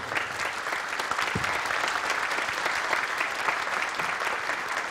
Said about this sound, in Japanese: じゃあ皆さん、お互い拍手して終わりにしましょう。